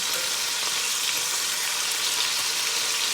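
A venison steak fries in a pan over medium heat, giving a steady, bright sizzle with crackling spatters, close and constant, and nobody talks.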